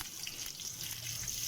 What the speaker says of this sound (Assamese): তেল, মছলা আৰু জলকীয়া এইবিলাক ভালকৈ দি আমি প্ৰথমে ভাজি ল'ম গোটেইখিনি বস্তু